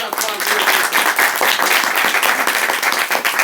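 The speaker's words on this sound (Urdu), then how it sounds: "تالیاں بجائیں." A church congregation claps together at a family prayer service, brisk dense clapping with a loose shared rhythm, fairly close and loud throughout.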